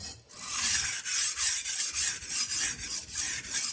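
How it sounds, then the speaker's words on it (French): A kitchen knife blade is drawn along a sharpening stone in steady strokes, giving a bright rhythmic rasp that repeats about eight times, close and clear with no talking. "Donc on va bien faire glisser la lame tout le long en essayant de garder un angle stable."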